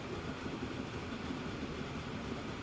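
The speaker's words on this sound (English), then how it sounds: "It's a brand new train." A new steam locomotive running in Transport Fever 2 rumbles in an even, dense rolling roar with a faint rhythmic chug, steady throughout and with no voices.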